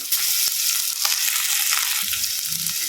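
Onions and tomatoes fry in a pan for Bombay chutney, giving a steady loud sizzle with faint stirring scrapes, close up and without voices.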